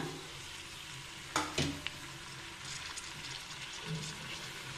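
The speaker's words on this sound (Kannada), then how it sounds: "ಈ ಹುರಿಯೋಣ ಈಗ ಟೊಮೊಟೊ ಹಾಕೋಣ" Tomatoes go into a hot frying pan for pudina rice bath, a steady close sizzle of oil with a couple of sharp clatters and stirring scrapes as they land.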